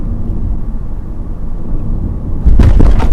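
A Honda HR-V hits a speed bump at 60 km/h: a steady low road rumble runs for a couple of seconds, then a sudden loud thump and jolt, with rattling from the trunk floor trim at the rear.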